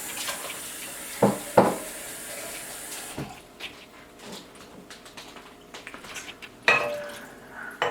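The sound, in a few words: rinsing pots with water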